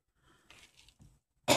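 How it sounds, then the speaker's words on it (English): A person coughs once, sharp and loud at the end, after a few faint throat sounds in a quiet room. "I hope I don't go into a coughing fit again"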